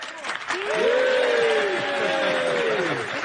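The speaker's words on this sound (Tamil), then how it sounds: "நம்ம சர்ச் ஃபாதர் சாமை இப்ப நம்ம பலத்த கைத்தட்டலோட வரவேற்கலாம்" A church congregation breaks into warm, sustained applause to welcome the father, steady clapping from many hands with voices and a sung or spoken tone weaving through it.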